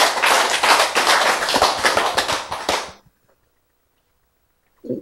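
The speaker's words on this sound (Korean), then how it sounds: "박수" A church congregation breaks into a burst of dense, close clapping that lasts about three seconds and stops abruptly, followed by silence.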